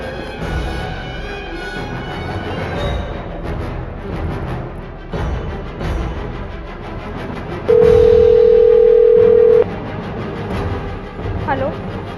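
A telephone dial tone sounds as a call is placed, a steady flat electronic tone lasting about two seconds that stands out loudly over a dramatic background score and speech.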